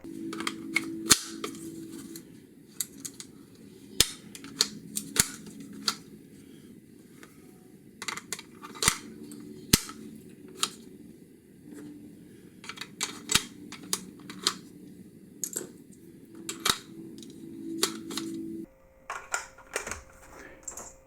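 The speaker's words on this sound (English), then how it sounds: "drop a bullet in, ratchet it again, and you do that until the magazine's full." A ratcheting magazine loader for an AR/M4 30-round magazine clicks sharply and repeatedly at an uneven pace as bullets are loaded, the crisp snaps standing out close up over a low background hum.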